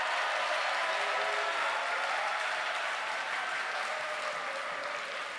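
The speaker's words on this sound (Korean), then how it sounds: "뜨거운 박수로 환영해 주시기 바랍니다" Warm applause from a church congregation welcoming a pastor to the pulpit at a spiritual retreat, steady dense clapping that fills the room and fades slightly toward the end, with no voices over it.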